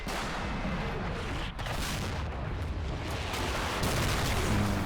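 Incoming artillery rounds in the Combat Mission: Battle for Normandy wargame, a steady dense rumble of distant shellfire and blasts rolling on without a break, fairly loud and continuous.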